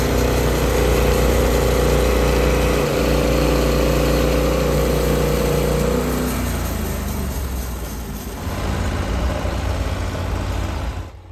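A portable sawmill engine runs in the winter bush, a loud steady drone that drops in pitch and level partway through, then rises again before cutting off abruptly at the end.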